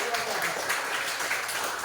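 Steady crowd applause fills the whole stretch, a dense wash of many hands clapping at moderate loudness with no pauses.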